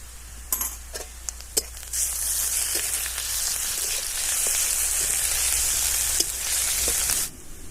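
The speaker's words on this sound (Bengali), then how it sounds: "আদা রসুন খুব ভালোভাবে ভেজে নিয়েছি" Ginger and garlic paste fries in oil in a pan for a Bengali elephant-foot yam masala, giving a steady close sizzle with a few sharp spatula clicks and stirring scrapes.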